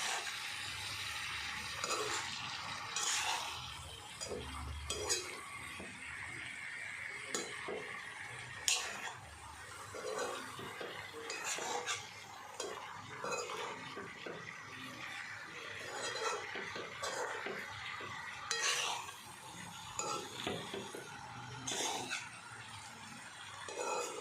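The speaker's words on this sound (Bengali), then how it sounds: "একটু নাড়িয়ে নিলাম, তারপরে আবার মশলা দিয়ে নাড়াবো।" Softened onions are stirred in a cooking pan, with quiet scraping and light clinks of a utensil against metal repeating through the stretch, faint and close.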